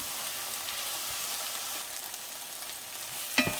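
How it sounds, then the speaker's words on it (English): Vegetables sauté in a pan over medium heat for black-eyed pea soup with okra, a steady close sizzle throughout, with a brief sharp utensil clink near the end. "Still sauteing this over here"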